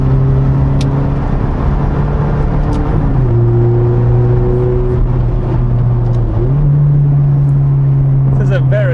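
A Ferrari 430 idles or cruises with a loud, steady engine drone whose pitch dips and rises slightly. Heard from close by, it runs continuously with a brief shift in tone midway.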